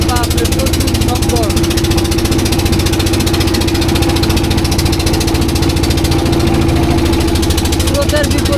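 A boat's motor on the river near Jaflong, Sylhet, drones loud and near in a rapid, even knocking rhythm, constant from start to finish.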